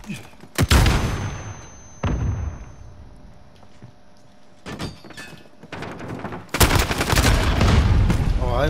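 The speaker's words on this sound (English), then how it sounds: "My guns are still firing." Gunfire from the video game Call of Duty: Modern Warfare in a tournament match: sharp shots and short bursts, sometimes loud and close, with one dense stretch of firing near the end.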